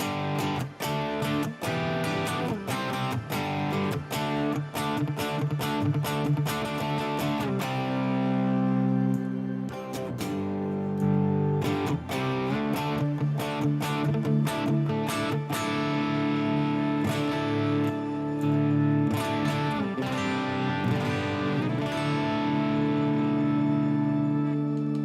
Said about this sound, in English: So that way we have more of an ethereal type rhythm sound.